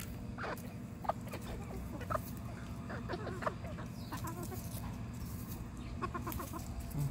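Chickens and a young rooster cluck softly nearby, scattered short clucks and chirps over a low background hum, faint throughout and without talking.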